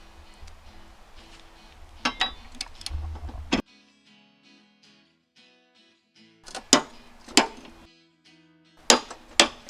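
Metallic clicks and knocks from a torque wrench on the blade bolts of a John Deere D130 riding mower, a busy cluster of taps followed by a quiet pause, then several sharp, close clicks spaced apart.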